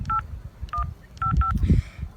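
Phone keypad dialing tones beep in short bursts as a woman calls her boyfriend, four distinct two-tone beeps in an uneven rhythm, with low background noise and murmur underneath.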